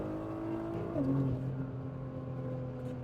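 A Nissan GT-R engine holds a steady hum, then swells in a brief rev blip at a manual downshift before settling back to a lower drone, heard from inside the car with no talking.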